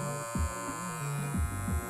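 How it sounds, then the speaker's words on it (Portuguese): A WMARK NG 125 hair clipper runs with a steady, close electric buzz, with a few brief changes in pitch as the blade is handled or pressed. "Vamos ver ela trabalhando agora, vamos ver como é que tá."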